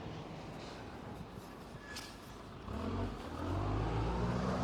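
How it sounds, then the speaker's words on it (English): A truck passes by outdoors near a homemade wine-bottle bird feeder, its engine swelling from a faint rumble to a loud, close low roar in the final seconds. "sorry about the truck passing by"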